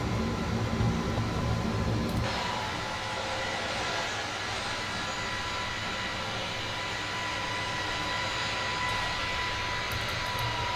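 An iniBuilds A320neo's jet engines drone steadily after takeoff in a flight simulator, a continuous airliner roar with a faint steady tone and a sharp change near the start, with no talk.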